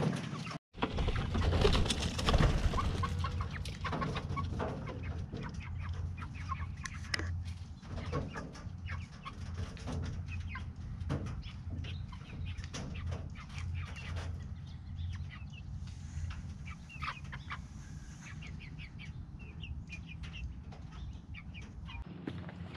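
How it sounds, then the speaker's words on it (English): Backyard chickens cluck and murmur near and far, with scattered soft knocks, shuffles and brief flapping sounds mixed through a steady outdoor background. "the chickens have quickly adapted"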